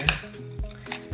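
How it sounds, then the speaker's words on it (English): A knife cuts through a caprese sandwich with a couple of short crunchy strokes and a thud on the board, close and fairly quiet. "I'm gonna slice it in half here"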